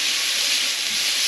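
Two tablespoons of garlic in oil sizzle in a skillet on high heat, a steady, bright, close hiss that holds evenly without pause.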